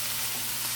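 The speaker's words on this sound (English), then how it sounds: "you're just gonna saute this" Salt fish sautéing in a pan with a little vinaigrette, giving a steady, dense sizzle and crackle close up, loud and even throughout with no talking.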